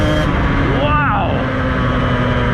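A motorbike engine revs hard in top gear as the rear wheel spins, a loud rising and falling pitch sweep near the middle over steady engine and road drone, close up with no talk.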